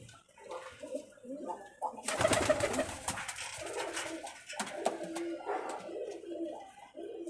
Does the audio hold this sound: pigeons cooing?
yes